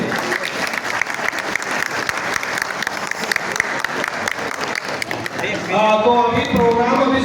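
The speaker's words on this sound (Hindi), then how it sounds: "इनके भी तरफ से ताली एक बार बजा दीजिए।" Guests at an engagement ceremony clap together in a steady, fairly close round of applause, with a few voices and some music joining near the end.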